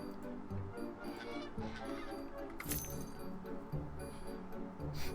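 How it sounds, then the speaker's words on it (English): Geese honk at a distance, faint and scattered over low ambient rumble and some background activity, with no clear voices. "Oh my gosh, it's the geese. The geese are back."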